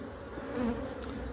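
Honeybees buzz around a hive frame in a continuous, close, droning hum with slight shifts in pitch as they move, with no talk.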